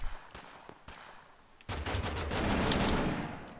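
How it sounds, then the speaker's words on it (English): Automatic and rapid gunfire in the battle royale game Totally Accurate Battlegrounds, a few scattered shots followed by a loud, sustained burst of overlapping fire close by. "He's shooting at me."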